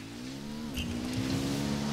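A car engine hums steadily in the video game Ghost Recon Wildlands, fairly quiet, with a brief higher accent partway through.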